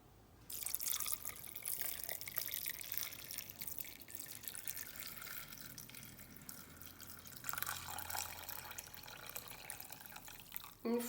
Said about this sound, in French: je verse mes 1000 g d'eau